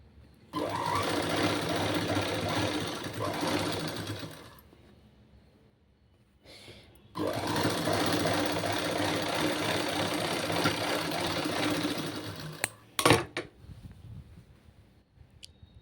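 A sewing machine stitches a boat neck blouse in two long runs of rapid, steady mechanical chatter, separated by a pause and followed by a few clicks, close by with no talking.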